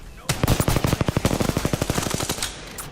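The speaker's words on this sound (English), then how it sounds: "Taking fire." A fast automatic weapon in the shooter game Apex Legends fires a rapid burst of about twenty close, loud shots in steady rhythm, tailing off after two seconds.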